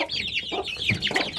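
Several chickens and roosters, including a group of young cockerels kept apart, cluck and squawk close by in a busy, overlapping chorus with no talking.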